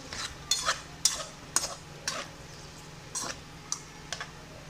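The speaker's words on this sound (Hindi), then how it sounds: "ये चीज़ों को हम अच्छी तरह फ्राई करेंगे।" Bottle gourd and potato pieces stir-fried in a pan, about ten sharp spoon-against-pan scrapes and clacks at an uneven pace over a faint sizzle, close by with no talking.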